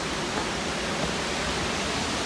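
Akiu Otake Falls in the Miyagi countryside of Japan rushes in a dense, even roar that stays loud and unbroken from start to finish.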